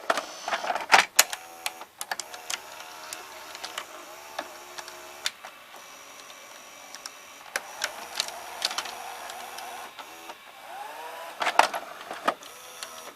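A Fisher FVH-4000 VCR ejects a tape as its loading motor and cam grind and whir, broken by several sharp mechanical clicks and clunks at irregular intervals, close up.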